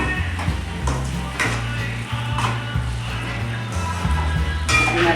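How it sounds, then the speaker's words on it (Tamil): Tirunelveli dried fish sizzles in oil with chili powder as it is stirred for karuvaadu thokku, a steady frying hiss with spoon scrapes and light clinks, backed by a low steady hum. "கருவாடை போட்டுக்கலாம். நல்லா கலக்கிக்கலாம்."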